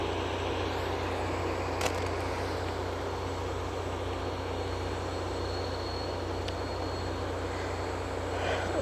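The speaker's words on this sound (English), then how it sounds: "Got the drone flying around again." A camera drone hovers and flies around overhead at an early-morning rocket launch site, giving a steady, continuous engine-like drone with broad hiss and no talk.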